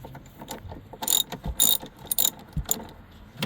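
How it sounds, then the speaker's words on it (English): Ratchet wrench turning seat bolts on a Dodge Grand Caravan, close rapid bursts of metallic clicking in several short runs with small clunks between, no talk. "Then I use lots of WD-40 to be able to turn these bolts"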